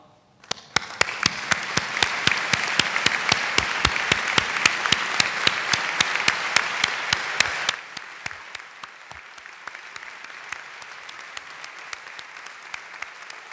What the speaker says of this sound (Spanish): merecidos los aplausos